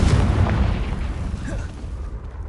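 A Confringo fire spell explodes in the Hogwarts Legacy video game, a loud booming blast that rumbles and slowly fades over a couple of seconds, with no talking.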